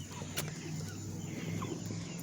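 Chickens cluck softly in a coop, a few scattered low calls near the listener over a steady background hum with faint distant noises.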